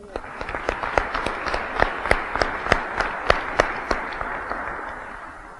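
An audience in a room claps together in steady, sustained applause, individual sharp claps standing out over the crowd's wash of sound.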